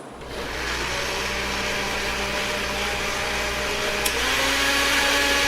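A blender making a fruit smoothie whirs continuously with a broad roaring hiss and a steady hum, running alone at close range, pitch shifting slightly partway through.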